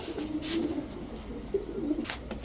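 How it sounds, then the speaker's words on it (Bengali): A pair of Giribaz high-flyer pigeons, male and female, coo close by in soft, low repeated phrases, several short coos in a row with no talking. "ছাড়াছাড়ি লাইনের এক জোড়া কবুতর"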